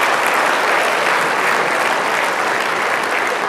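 A church audience breaks into dense, steady applause that fills the room at even loudness throughout, with no voices over it.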